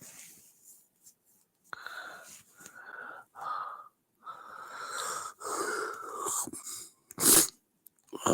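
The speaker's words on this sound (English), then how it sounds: "I don't know where I got these sniffles from." Close, wet sniffles come in several short bursts, separated by pauses and a few quieter breaths.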